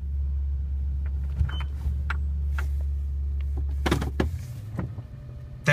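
A 2005 Toyota Tundra with an iForce V8 idles with a low steady rumble while it creeps forward a few inches, with faint clicks and clunks inside the cab.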